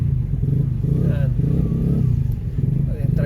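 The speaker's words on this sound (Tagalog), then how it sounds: "Tricycle nakapila." Tricycle motorcycles idle and rev in traffic on a rough, potholed road, a close, busy engine putter with clatter, and someone talks over it.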